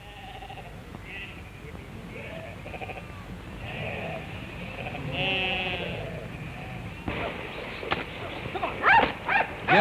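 Sheep bleat repeatedly at a busy sheep station during shearing season, against a background with a narrating voice, and a dog barks a few times near the end.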